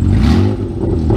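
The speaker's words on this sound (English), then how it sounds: "Give it a little bit of vroom." A worn-out old car engine revs up, a loud, continuous rough growl with steady harmonic drone and clattery texture, held close throughout the short burst.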